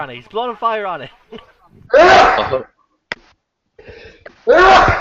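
Two sharp, noisy sneezes burst out a couple of seconds apart during a tabletop role-playing game session, with people talking before and between them.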